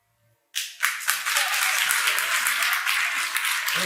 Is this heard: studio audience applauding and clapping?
yes